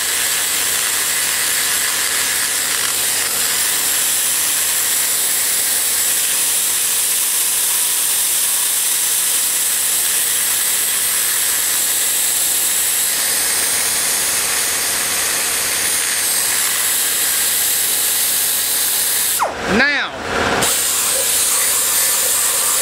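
Air-powered tool porting the intake port of a small-block Chevy head, a steady loud high-pitched hiss and whine running continuously, with a brief sweeping change in tone near the end.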